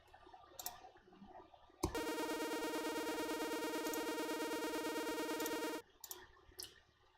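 A bright, buzzy saw lead synth in OpenMPT holds one sustained note for about four seconds, steady and loud, with a slight rhythmic pulse, surrounded by quieter background noise.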